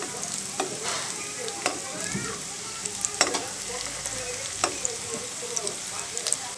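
Potato fingers frying and being turned in hot oil for crispy potato snacks, giving a steady close sizzle with repeated sharp clacks and scrapes of a utensil stirring and flipping them, no talk.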